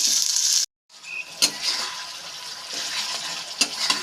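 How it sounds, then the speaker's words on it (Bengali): Spice masala fries in oil with a continuous sizzle and stirring, briefly cut to silence near the start, then resuming with sharp scrapes; no speech. "মশলাটা কষানো হয়ে গেছে এই বন্ধুরা তেল বেরিয়ে এসছে"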